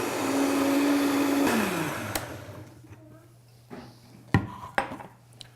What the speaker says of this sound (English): I'll blend it all together to make myself a chocolate mocha